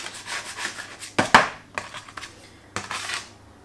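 A pastry scraper rubs and scrapes across dough on a work surface while custard tart pastry is being made. Several close, short scraping strokes come in uneven bursts with no talking.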